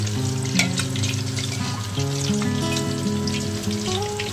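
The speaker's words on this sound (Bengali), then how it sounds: "তাহলে চলো আগে এই সেটটাকে ভাজি।" Chicken fries in a pan on low to medium heat, a steady soft sizzle with faint crackles and pops throughout.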